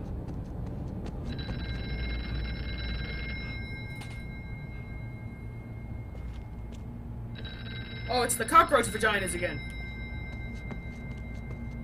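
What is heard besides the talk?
telephone ringing in the video game Here They Lie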